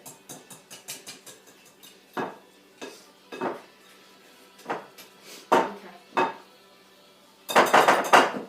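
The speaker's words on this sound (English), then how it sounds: "Alright, so she's going to stir that in" Gluten-free batter is stirred in a bowl with a utensil that clinks against the sides, giving repeated scraping knocks at an uneven rhythm, close and clear, ending in a louder burst of rapid clatter.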